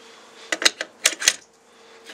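An AR-style .22LR charging handle sliding into the upper receiver during reassembly, several quick close metallic clicks and scrapes in a short burst, then quiet.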